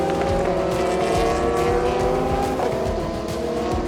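Endurance race cars in a WEC event howl past with high, layered engine notes and shifting pitch, loud and continuous, with a brief tire squeal.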